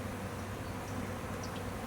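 A honeybee swarm fans at the entrance of a new hive, making a dense, continuous buzzing hum that stays close and steady throughout.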